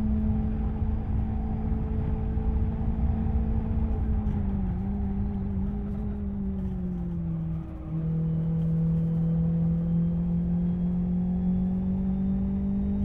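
A racing car's engine in Live For Speed, a steady loud drone whose pitch dips briefly through a corner and then holds again, with no voices.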